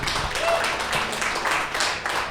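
Audience applause at a comedy open mic, a steady wash of clapping from a small room crowd lasting throughout, fairly loud and continuous with no single voice standing out.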